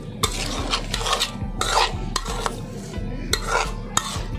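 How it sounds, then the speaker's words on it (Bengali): Chickpeas, potatoes, ginger-garlic, turmeric, chili and garam masala are mixed together by hand or spoon, with close, repeated wet squelching and clanking strokes against a bowl in an uneven rhythm. "এগুলো দিয়ে সবগুলোকে ভালো করে দেখুন মাখাবো"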